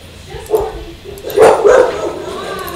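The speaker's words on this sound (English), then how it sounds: "The dogs are barking." Dogs barking inside the Roblox game Theme Park Tycoon 2, with two short bursts of barks and yips at moderate distance over a steady background hum.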